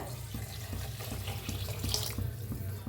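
Hot water pours steadily into a pot of roasted rice and sprouted moth beans while masale bhat cooks, a continuous close splashing stream with soft regular clinks underneath.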